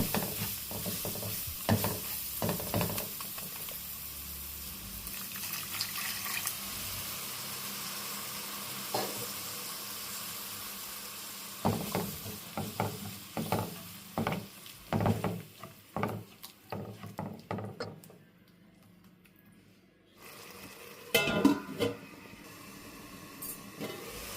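Mushroom masala cooks in a pan with a steady sizzle and frequent rhythmic clacks of a spoon stirring, a quieter stretch near the end before more scraping, close and without talk.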